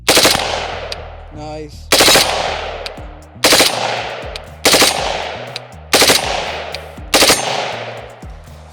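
A G lever-action rifle fires six loud, sharp shots on iron sights at roughly evenly spaced intervals, each crack ringing out with a long decaying echo, with a brief voice in one gap.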